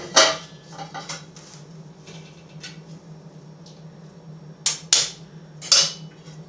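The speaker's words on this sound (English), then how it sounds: "And then you put the lid on." A few sharp metallic clinks and clatters as a lid goes on a pot of homemade noodles, with two louder knocks near the end, over a steady low hum.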